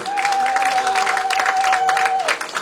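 A church congregation applauds and cheers for the King of Kings, producing dense, sustained clapping with a steady held organ or keyboard tone over it.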